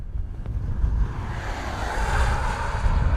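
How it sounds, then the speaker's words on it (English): Strong wind roars across the microphone of a cyclist riding up a mountain pass, a loud, continuous buffeting rush with no speech. "So windy."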